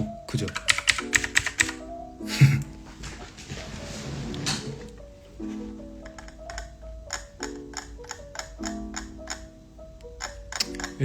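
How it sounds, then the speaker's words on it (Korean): Computer keyboard typing heard close up during a Korean live stream, bursts of sharp clicking keystrokes in quick irregular runs over soft background music. "키보드 소리는 더 크죠?"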